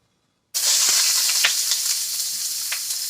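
Vegetables and imitation crab hit a hot pan and start stir frying: a loud, sudden sizzle that holds as a steady crackling hiss, with a few scraping stirs, heard close and without talking.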